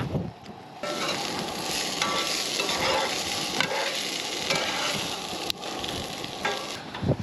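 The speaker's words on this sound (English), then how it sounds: "So we got to cook these potatoes first" Garlic roasted potatoes frying on a camp stove outdoors in the Alvord Desert, a steady broadband sizzle with stirring scrapes, wind buffeting the microphone and occasional sharp clicks, loud and close throughout.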